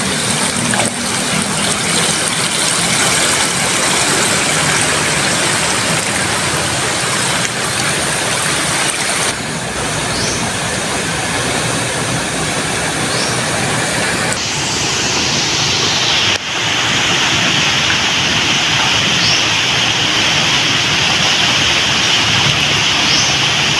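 Floodwater rushes like a waterfall in a continuous, loud, steady roar throughout, its tone shifting slightly partway through as the position changes, with no talking.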